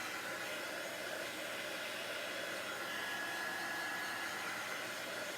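A heat tool or dryer blows on a watercolor design, making a constant close whir with no voices over it.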